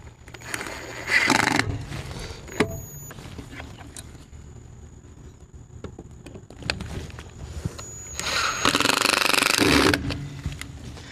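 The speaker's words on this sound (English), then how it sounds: "First, what we need to do is sink it with these self-tappers so that we have a good index point to mark and drill from." A power drill drives self-tapping screws into a metal router mount during a Peplink RoamLink 5G install: two loud sustained whirring bursts, one near the start and a longer one near the end, with clicks and handling noise between.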